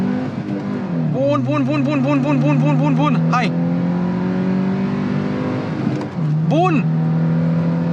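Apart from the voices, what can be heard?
Suzuki Jimny engine accelerating during 0-100 km/h run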